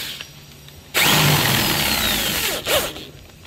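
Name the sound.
power drill countersinking screw holes with larger bit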